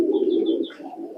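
A pigeon coos at a large pigeon market in Khalishpur, Khulna. The soft, rolling, low call sounds close and continuous, with faint higher chirps over it and no speech.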